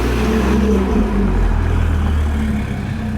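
Audi RS3 fitted with a new exhaust, valves open, idling and revving outdoors; a loud, deep, continuous engine rumble with steady low drone and slight swells, no talking.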